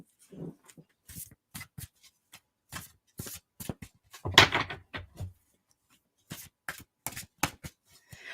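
Tarot cards shuffled loosely during a live psychic reading, heard as scattered short riffling and slapping bursts with a louder flurry midway, separated by quiet gaps.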